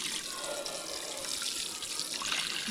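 Dishes being washed under hot running water supplied by a pump, a soft continuous splashing and trickling with faint clinks, fairly quiet and close.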